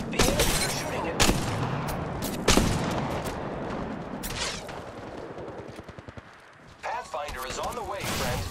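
Gunfire from the video game Apex Legends Mobile: loud bursts of rapid shots and sharp booming blasts, crowding together with brief pauses, with game voice lines heard over the shooting.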